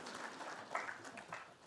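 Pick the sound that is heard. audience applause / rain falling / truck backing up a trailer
audience applause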